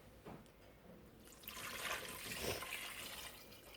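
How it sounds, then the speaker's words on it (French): Water poured into a simmering couscous sauce pot, a steady, fairly loud rushing pour building after a quiet start and continuing to the end, with no talking. "Et là maintenant, je vais rajouter l'eau"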